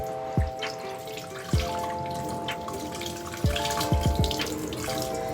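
Tap water runs steadily over hands being rinsed of soap at a sink, a close, constant rush broken by several sharper splashes and knocks as the hands move under the stream.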